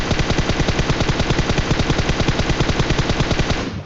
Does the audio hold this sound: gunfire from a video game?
yes